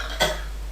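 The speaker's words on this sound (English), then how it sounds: "So this patient also coughed." A patient gives one short, sharp cough right after swallowing during a swallowing test, close and alone in a quiet room.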